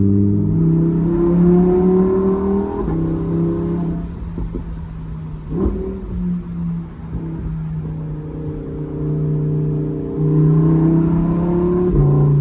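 A powerful Lamborghini engine idles loud and close with a deep, throaty burble, dipping briefly before swelling back to a steady growl.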